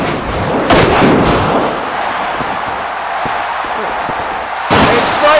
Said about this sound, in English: And Cypher no-sold that top rope Olympic slam.